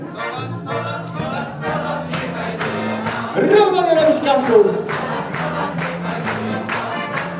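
Wedding guests clap steadily in time with live band music at a Polish wedding, the sharp regular claps ringing over singing and instruments while a voice calls out, with a brief louder swell of crowd noise midway.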